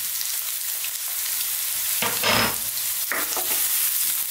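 Ginger and garlic dropped into hot sesame oil for braised bok choy, a steady soft sizzle that flares up into a loud spitting burst as the food hits the pan, followed by a second smaller flare-up.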